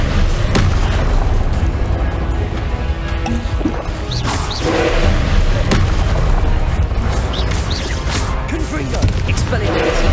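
Confringo fire-spell blasts in the game Hogwarts Legacy land as repeated booming impacts with crackling debris, spaced through a busy battle while a voice keeps calling out spells.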